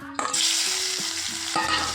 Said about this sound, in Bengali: কোচানো পেঁয়াজগুলো ভালো করে নেড়ে চেড়ে নিয়ে ভালো করে একটু লাল লাল করে ভেজে নেব